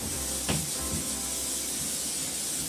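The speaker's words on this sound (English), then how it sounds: "let's spray the pan real fast" A short cooking spray hisses briefly into a pan over a constant loud background hiss, with a faint second puff shortly after.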